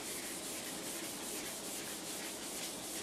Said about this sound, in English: we can go to our sander